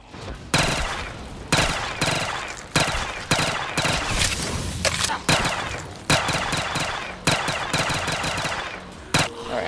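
Rapid bursts of automatic gunfire from Black Ops 3 custom zombies on a Minecraft-style map, loud and repeated in short volleys with brief gaps between them.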